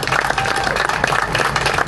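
Applause from a crowd gathered on a town high street during a military-themed walk and speech, a thick, continuous patter of clapping with some voices mixed in, fairly loud throughout.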